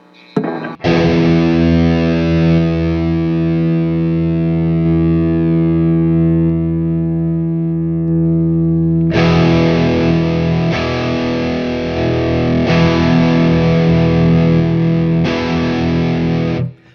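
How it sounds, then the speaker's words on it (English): Electric guitar heavily overdriven with a TS9 pedal: a long sustained distorted chord ringing out, then a run of chunky, driven strums, loud and alone. "Let's add a little bit of TS9 distortion to it."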